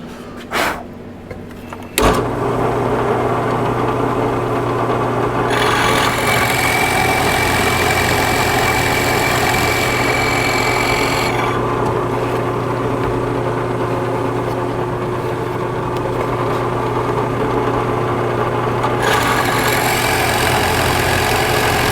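A drill cuts holes for rocking horse glider stands: after a brief knock and start-up, a motor runs on in a long steady whine, with several stretches of higher-pitched cutting noise that start and stop, alone without talk.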